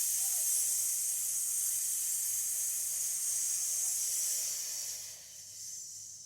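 A long, slow, breathy exhale during an abdominal breathing exercise, a steady close hiss of air that fades toward the end.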